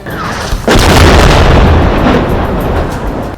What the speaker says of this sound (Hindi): वहां इतना जोरदार धमाका हुआ कि पूरा इलाका कांप उठा